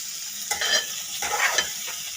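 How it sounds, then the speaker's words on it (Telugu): Tomatoes frying in a pan, a soft steady sizzle with two short bursts of spatula stirring and scraping close by. "ఇందులో మనం మళ్ళీ టమాటాలు ఫ్రై చేసుకున్నాము"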